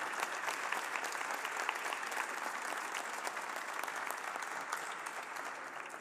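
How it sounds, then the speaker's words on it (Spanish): Steady applause from an audience at a session of the Mexican Comisión Permanente parliamentary body, heard at a distance as a dense, even clatter that continues without break for several seconds. "Un aplauso, por favor,"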